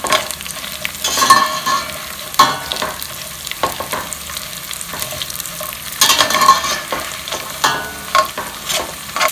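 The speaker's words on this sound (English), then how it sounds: "So I'll add, give it a nice stir." Nuts and seeds — sesame, sunflower, cashews, almonds and Brazil nuts — stirred in a hot pan, with repeated scraping strokes over a steady light sizzle and no talking.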